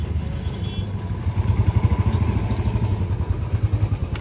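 Two Royal Enfield Bullet motorcycles, one a 2000 model, thump along on the road, the steady rapid single-cylinder pulse loud and close, running alone without talk.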